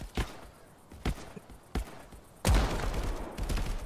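Gunfire in Call of Duty played in VR: several sharp, loud shots ring out singly and in short bursts, then a heavier volley of shots toward the end.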